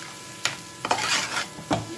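A spoon scrapes and stirs sugar roasting in a pan for moong dal halwa, giving a few distinct knocks and scrapes over a soft, steady sizzle, close and moderately quiet.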